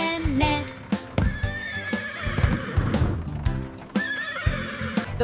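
A horse whinnies several times in high, wavering neighs, with hollow clip-clop hoofbeats and a bouncy children's farm-song backing underneath.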